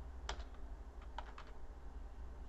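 Light typing on a computer keyboard, a few quiet clustered key taps near the start and middle over a faint low hum, with no talking.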